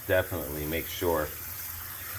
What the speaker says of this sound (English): So you run cold water.